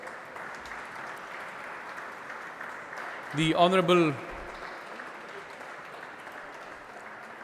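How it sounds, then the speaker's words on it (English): Applause greeting dignitaries at a student parliament event in Pune rolls on steadily throughout, with a brief spoken phrase cutting in near the middle. "Welcome all the dignitaries with a big round of applause"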